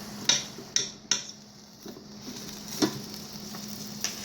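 Sirloin steak sizzles on a Ninja Foodi GrillGrate in a steady close hiss, broken by several sharp metallic clinks of a utensil against the grate.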